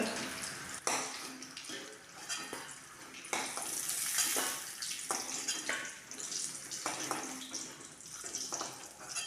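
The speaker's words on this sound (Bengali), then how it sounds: "পটলগুলো হালকা লাল লাল করে ভেজে ফেলেছি" Pointed gourds (potol) frying in oil in a pan until lightly reddened, a loud continuous sizzle with bursts of spattering and stirring scrapes, heard up close with no talk.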